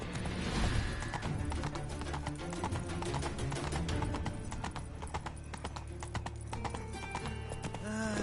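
Roach the horse gallops in The Witcher 3, a steady run of rhythmic hoofbeats over a dense backdrop of music and ambience, with a brief whinny and no talking.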